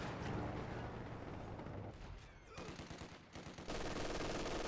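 MG42 machine gun bursts in the Company of Heroes 2 battle game, a dense rattling volley mixed with mechanical clatter and battlefield noise, steady and loud with a brief dip midway.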